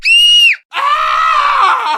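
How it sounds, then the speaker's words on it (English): Screams ring out inside a haunted house attraction: a loud, shrill scream that stops, a short pause, then a longer, wavering scream. Nobody speaks. "But then the sounds of screams"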